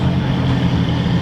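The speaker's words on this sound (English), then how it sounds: "There goes the Technica. First Technica I've seen driving" A Lamborghini Aventador Technica passes close by, its engine a loud, steady broadband roar that holds at full strength through the brief moment.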